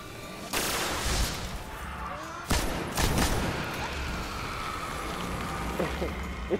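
A light machine gun firing in Destiny, a few sharp shots standing out over a steady rushing, rain-like background.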